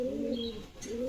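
A red male pigeon from the Beldanga market gives a soft, close coo of two rolling notes with a brief dip between them.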